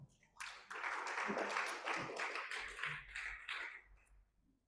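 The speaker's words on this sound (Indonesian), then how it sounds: "tepuk tangan bagi Tuhan kita" Church congregation in Sorong applauding during a sermon, a soft, fairly distant wash of many handclaps that swells and then fades out.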